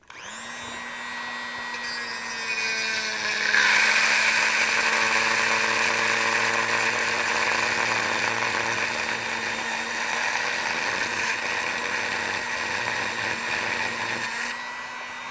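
A Dremel rotary tool whines loud and steady as it cuts off a motorcycle coil mount, the pitch dropping under load for about twelve seconds before it winds down.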